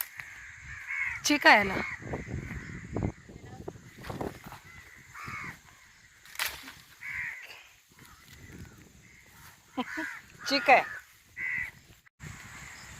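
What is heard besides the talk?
crows cawing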